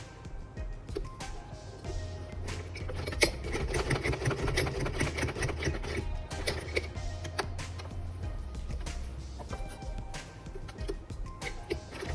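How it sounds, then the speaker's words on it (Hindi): A sewing machine stitches fabric from an old face mask, running in a continuous rapid ticking whir for the whole stretch, close up and steady with slight speed changes. "ये यहाँ सिल गया और अब जो ये सिलाई आ रही है इसी पर मैं इसको रखूंगी और सिल दूंगी।"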